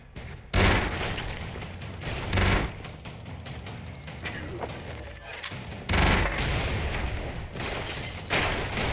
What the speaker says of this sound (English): We're charging up our gun, guys. What's gonna happen? Well, that makes shit break severely.